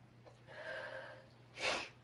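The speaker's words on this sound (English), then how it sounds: "Oh no, I'm sniffling." A person sniffles quietly in a short nasal breath, ending in one sharper sniff.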